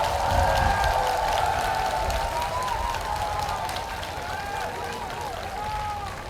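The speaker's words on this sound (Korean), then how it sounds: "오늘 오신 분들 박수 한번 크게 한번 쳐주시기 바랍니다." Worshippers at a large Buddhist release-of-life ceremony in Jeju applaud together outdoors. The applause is a steady, hissing wash of clapping that holds at an even level throughout, with an amplified voice carrying over it.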